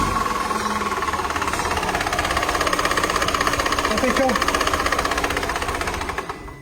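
A four-cylinder car engine with an alternator belt problem idles close by with a fast, even ticking whir, while someone speaks briefly over it.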